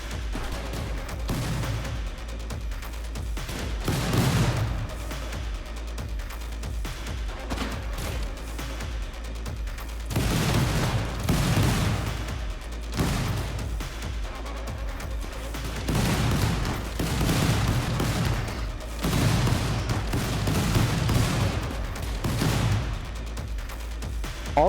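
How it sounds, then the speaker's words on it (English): Repeated booming explosions and bursts of gunfire-like blasts from the video game Rimworld come in waves over a low, steady rumble, with no talking. "All the explosions are freaking me out"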